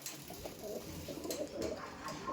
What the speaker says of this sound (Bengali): তাদের কাছে এবার ম্যাক্সিমাম কিছু আন্ধ্রা পায়রা থাকবে